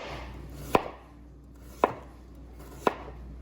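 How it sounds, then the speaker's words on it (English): A knife slices through sweet potatoes on a cutting board, three evenly spaced sharp thunks about a second apart, close and clear with no speech. "just about finished slicing up the sweet potatoes"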